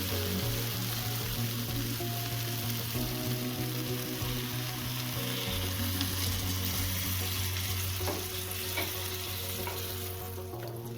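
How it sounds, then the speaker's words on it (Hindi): Water is poured into a pan of spiced masala frying with flat beans and potatoes, and it sizzles loudly and steadily. A hum holds underneath, and there are occasional stirring clicks. "मसाला अच्छे से भून गई है, डाल देते हैं इसमें पानी।"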